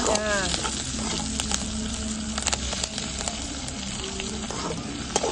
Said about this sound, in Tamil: இந்த வெங்காயம் அது தீஞ்சதான் நல்லா இருக்கும் சாப்பிடுறதுக்கு